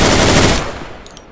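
A loud, dense burst of automatic gunfire from a rifle in the video game Deadside rattles for about half a second, then cuts off into a decaying echo tail with a few faint clicks afterward.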